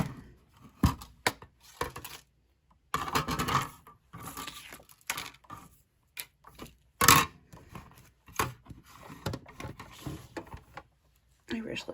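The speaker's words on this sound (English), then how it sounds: "I've got to run it through one more time to get my sentiment cut out" A die cutting machine runs a paper sentiment through, giving irregular bursts of mechanical cranking and grinding separated by silent pauses, with a voice heard speaking between them.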